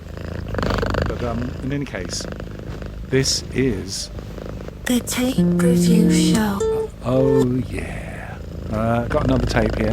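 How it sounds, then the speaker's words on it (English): A cat purrs close by with a low, rhythmic rumble, heard beneath and between several people chatting. "Oh, that's the cat."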